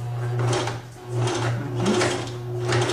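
A sewing machine stitches along a jeans hem over the topstitching, running in short rhythmic bursts over a steady motor hum, close up and moderately loud.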